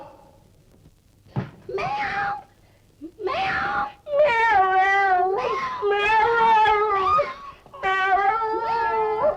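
A person imitates a cat, drawn-out wailing meows rising and falling in pitch, repeated several times close up with short breaks between.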